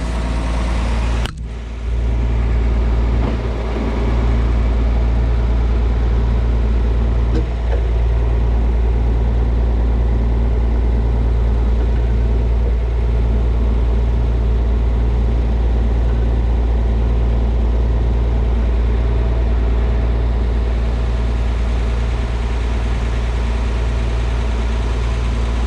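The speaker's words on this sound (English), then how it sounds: "So I got to just put my PTO shaft back on and let the tractor warm up a little bit." A farm tractor at harvest time idles while warming up, a heavy, constant low rumble close by that runs without a break throughout, with a brief clunk near the start and no voices.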